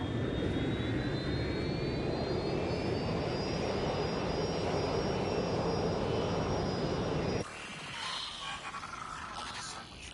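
A jet airplane flying in the video game Watch Dogs: Legion makes a loud, steady engine roar with a rising whine for about seven seconds, then cuts abruptly to a quieter, rumbling scene.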